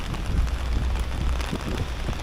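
Rain falling on a street in Tokyo, a steady close patter of drops hitting surfaces with low rumbling underneath and no voices.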